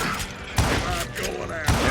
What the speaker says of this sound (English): Okay, shotguns and explosions.